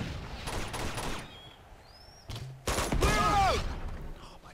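Bursts of gunfire in the video game Uncharted 2: Among Thieves, a dense rattling volley in the first second, a quieter stretch, then louder close shots with a metallic ring near the end, no talking.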